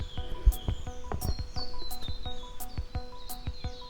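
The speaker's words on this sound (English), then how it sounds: "the birds, you could hear the birds because they're so pretty" Birds in the Australian bush sing with repeated bright chirps and whistles over a quiet background, while a few soft low knocks sound nearby.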